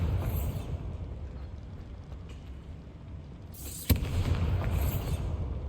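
Bombarda blasting spell in Hogwarts Legacy inside a small mine, a rumbling low background broken by one sharp explosive crack followed by a swelling roar.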